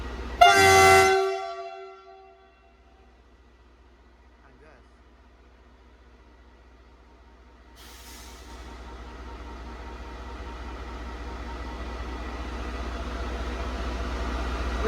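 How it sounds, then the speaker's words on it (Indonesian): A CC 300 diesel locomotive sounds its horn in one loud, short, brassy blast close by. After it cuts off there is near silence, then a low engine rumble slowly builds. "Kita lihat suara klakson sini 300."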